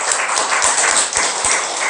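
A church congregation breaks into dense, continuous applause during a Korean worship service, a steady wash of many hands clapping at moderate loudness with no talk over it.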